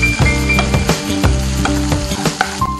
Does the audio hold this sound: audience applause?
no